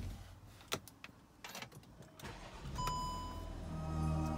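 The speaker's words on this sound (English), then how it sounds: "The starter, I'm going to show you the sound now." A 2016 VW Touareg 3.0 TDI R-Line diesel cranks briefly, then catches and settles into a steady, smooth idle, heard close with no talking.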